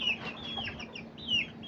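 Chickens cluck inside a backyard enclosure, with several short calls overlapping at close to moderate range and a few louder clucks standing out over a low steady hum.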